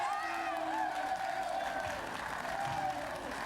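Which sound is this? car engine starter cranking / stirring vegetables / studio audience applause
studio audience applause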